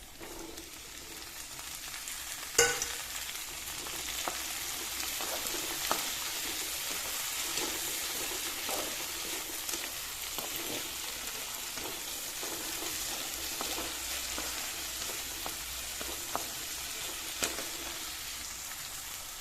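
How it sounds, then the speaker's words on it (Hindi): Onions fry in a pan for cauliflower masala with a steady, dense sizzle, and occasional clicks and stirring scrapes sound throughout, close and continuous with no talking. "प्याज भुज गए"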